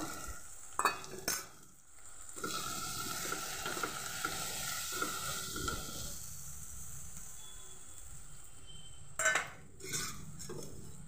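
Spice paste goes into a pan of frying okra masala: a soft, steady sizzle with stirring, plus a few sharp clinks of a spoon or utensil against the pan near the start and end, with no voices.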